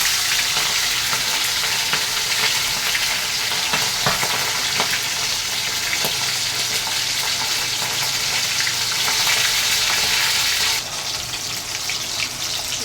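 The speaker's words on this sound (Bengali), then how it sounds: "তেলটা আমার দেখুন গরম হয়ে গেছে, এবার মাছ আমি একটা করে ছেড়ে দিচ্ছি" Pomfret fish fry in hot oil in a pan, a dense, steady, close sizzle with scattered crackles that drops slightly in level near the end, with no talking.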